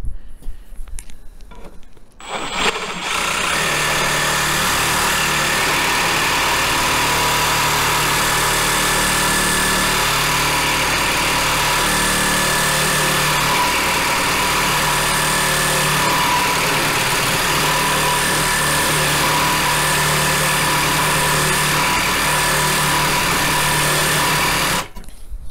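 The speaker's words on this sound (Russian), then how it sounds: "Ставим на первую скорость, потому что металл нужно пилить на медленной скорости," A Makita DJR187Z cordless reciprocating saw set to its first, slow speed cuts metal, starting after a short quiet moment with a loud, continuous buzzing and rattling drone that holds steady for over twenty seconds, close to the recorder.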